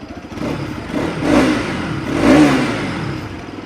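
A 2025 Bajaj Pulsar RS200 motorcycle idles at low RPM with a close, loud exhaust burble that rises in two distinct revving swells before settling back.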